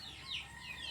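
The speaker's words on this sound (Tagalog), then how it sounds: "Ito nasa atin yung manok." A farm chicken clucks once or twice, faint and fairly distant, against a quiet outdoor background after a typhoon.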